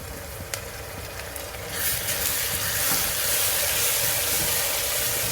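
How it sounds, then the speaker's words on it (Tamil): Onion and a spice paste sautéing in a pan, a steady close sizzle that swells louder and brighter partway through as the paste hits the oil, with faint stirring scrapes underneath. "ரா ஸ்மெல் போகிற வரையும் நல்லா வதக்கிக்கோங்க"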